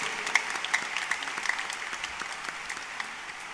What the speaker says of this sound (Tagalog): Pasalubungan natin ang palakpakan ng ating Panginoon.